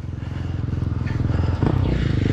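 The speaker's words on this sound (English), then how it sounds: "Motorcycles!" Loud motorcycle engines rumble and rev close by, a throbbing, pulsing roar as bikes pass, with a brief voice under the noise.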